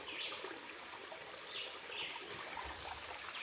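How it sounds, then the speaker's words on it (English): Crystal clear spring water flows down from the mountains in the Jamaican hills, a steady, soft trickling stream heard alone at low volume. "Crystal clear spring water. Straight from out of the mountains."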